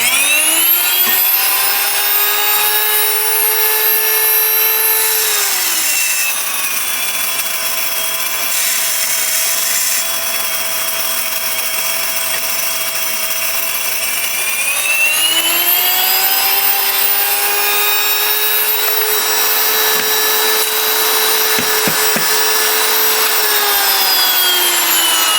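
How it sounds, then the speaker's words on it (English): A loud electric wheat grinder milling wheat runs continuously with a high whining motor roar; its pitch drops and rises as the load changes, with harsh grinding noise throughout and no talking. "This is a loud wheat grinder."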